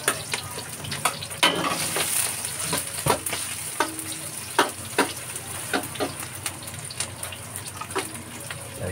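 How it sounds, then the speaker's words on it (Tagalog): Garlic and onion sauté in hot oil, a continuous sizzle broken by frequent sharp clicks and scrapes of a spatula against the pan. "mainit na mantika ha. Magdigisa na. Bawang, sibuyas."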